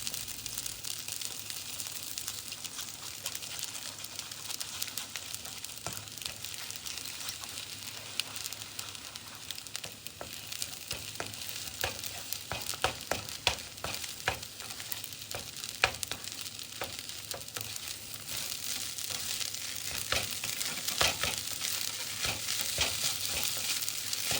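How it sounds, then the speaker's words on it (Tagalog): Two eggs fry in a pan pushed beside rice for Thai pineapple fried rice, with a close, constant crackling sizzle and scattered light spatula scrapes throughout. "Kailangan natin ng konting space para magluto ng itlog."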